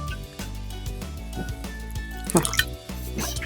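Water poured into wheat dough for kadubu makes a few wet drips and a brief splashy burst near the end, heard over steady background music.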